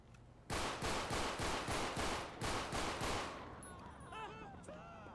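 Gunfire in the FiveM video game: a rapid burst of about eight evenly spaced loud shots, followed by fainter ringing metallic tails and clinks as the firing stops.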